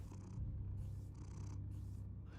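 Cat purring in the Batman Telltale Series video game, a soft, close, rhythmic purr with steady breaths in and out, heard alone.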